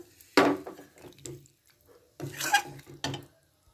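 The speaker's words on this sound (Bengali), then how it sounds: "আমার মনে হচ্ছে এতে আর একটুখানি জল লাগবে, এর জন্য আমি আবারও একটুখানি জল দিয়ে দিলাম।" Water splashes into a metal pot of beans and potatoes on the stove in a few uneven pours, with clanks of the vessel between bursts, close and moderately loud.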